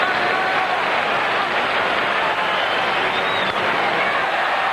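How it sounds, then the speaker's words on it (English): Dodger crowd at a National League Division Series playoff game between the Reds and Dodgers makes a broad, steady roar with scattered cheering and clapping, sustained and even throughout. "The Dodger crowd beginning to make a little noise."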